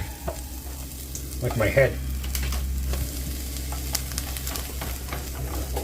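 Onions sizzling in olive oil in a pan, a steady frying hiss under a low hum, with a few utensil scrapes and clatters and a brief spoken remark partway through.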